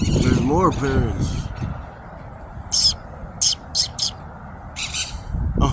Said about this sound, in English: There's more parrots.